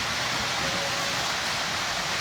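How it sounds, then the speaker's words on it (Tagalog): Heavy rain pours down steadily in the morning, a dense, continuous hiss of falling water that stays loud and unbroken throughout with no voices. "Ngayon, yan, lumakas na naman yung ulan."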